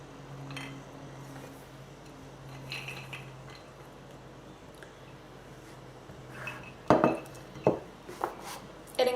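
Hazelnuts go gradually into a Blendtec blender, heard as quiet scattered clinks and taps that turn into a few sharper knocks near the end, close by against a faint background hum.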